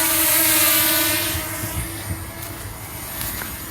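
A DJI Mini 2 SE drone flying just after takeoff over a construction site, a steady whining propeller hum that is loud at first and gradually fades as it climbs away.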